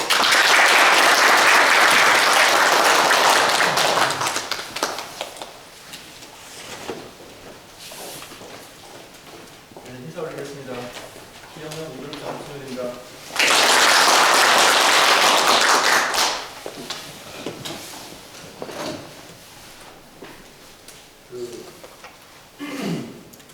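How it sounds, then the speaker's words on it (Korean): A workshop audience breaks into loud applause, fades into scattered claps, thuds and a speaking voice, then a second full burst of clapping swells for a few seconds before dropping back under talk. "박수로 맞이해주십시오."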